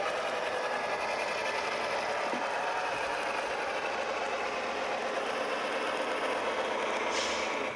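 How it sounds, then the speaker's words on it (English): Reworked model train engines with installed sound run continuously, giving a steady mechanical chugging and whirring drone at even loudness throughout, with no talk. "Both of these are Brian's engines that he's meticulously reworked and installed beautiful sound in, as you can hear."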